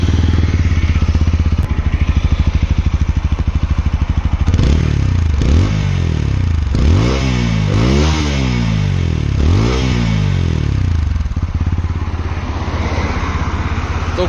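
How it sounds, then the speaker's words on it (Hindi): A TVS Apache RTR 160 4V motorcycle, RM edition, idles with a steady exhaust thump, then takes several sharp throttle blips that rise and fall one after another before settling back to a loud, close idle. "एंड इसका एग्जॉस्ट साउंड मैं आपको सुना देता हूँ भाई"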